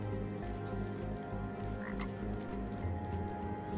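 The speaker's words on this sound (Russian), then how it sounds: "Лягуха." A small orange frog in the game Tower of Time croaks in a rapid, repeating pulse, loud and close against a layered ambient game backdrop.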